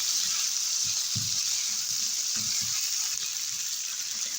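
Pork liver frying with onion in a pan sizzles steadily and evenly throughout, with soft low bumps from stirring now and then.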